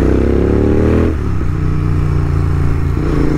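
Royal Enfield GT650 twin-cylinder motorcycle engine switched into race map, heard up close and loud as a steady rev that drops in pitch partway through, then settles into a lower idle-like rumble.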